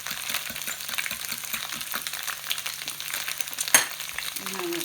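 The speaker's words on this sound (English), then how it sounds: "And I'm going to just stir some more, and this is just about ready." Kale and kimchi fried red rice with tofu stirred in a pan, a soft continuous frying sizzle broken by repeated close scrapes of a utensil and one sharp clack near the end.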